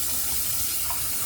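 A sink tap runs before shaving, a steady broadband rush of water that is fairly loud and continuous through the whole short stretch, with no voices.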